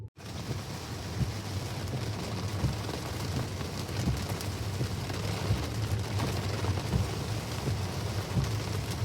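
Steady rain falls outside a car on a road trip in wet weather, a continuous dense patter heard from inside the vehicle, even and moderately loud with no talking.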